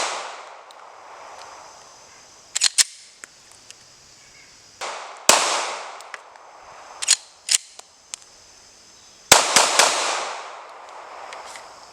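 Glock pistol firing from loaded magazines at an outdoor range: sharp, loud reports in irregular clusters of two to four shots, separated by pauses with faint background hiss.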